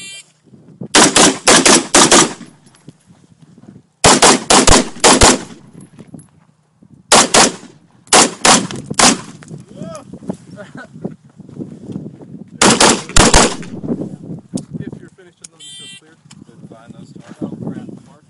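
Loud bursts of rapid gunfire from a rifle fitted with a ThorFire C8s weapon light, several volleys separated by pauses, with someone talking between them.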